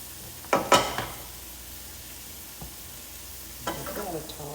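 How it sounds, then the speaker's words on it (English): Cauliflower and shrimp with garden green beans tossed into a hot stir-fry pan, a couple of sharp sizzling bursts at first, then quieter frying hiss and another sizzle as the food is stirred. "And I'm just gonna put this cauliflower in there."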